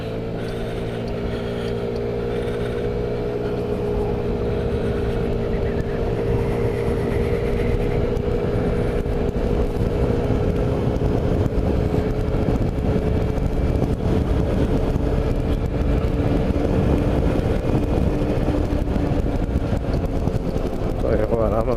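Engine noise from a 49cc Honda Ruckus scooter in Alaska, with steady low drone throughout as a couple of cars pass by on the road, loud and continuous with some talking over it.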